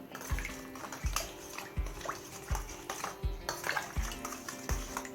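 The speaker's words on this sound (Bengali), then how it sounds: "এবারে সমস্ত কিছু চামচের সাহায্যে একবার মিশিয়ে নিচ্ছি" A spoon mixes raw mango with salt, turmeric and mustard oil in a bowl, giving regular scraping knocks about every three-quarters of a second, close and moderately loud.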